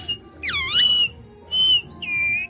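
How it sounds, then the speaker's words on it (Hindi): A pet parrot whistles in several bright, sweeping bursts, rising and falling trills close and loud, separated by short pauses of quiet room noise. "सीटी मार दो, सीटी मारो, सीटी मारो मिट्ठू।"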